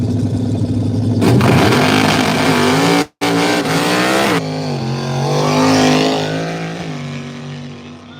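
Drag race cars make a pass down the strip at an arm-drop event, with loud engines revving and roaring up through the gears in sweeping pitch rises, close and intense, with a brief dropout midway.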